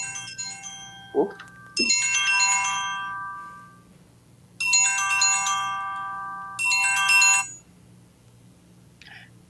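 A telephone ringtone sounds in four melodic bursts of bright, chiming tones, alone and fairly loud, with brief pauses between them and a short vocal exclamation near the start.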